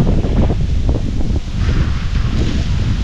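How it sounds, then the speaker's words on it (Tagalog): Strong wind buffeting an outdoor microphone near a garden, a constant loud rumbling roar with rustling gusts and no pauses. "Lakas ng hangin."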